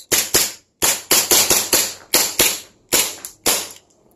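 Airsoft pistol shots, sharp, loud and close, fire in quick irregular bursts of about eleven cracks as pellets punch through cardboard.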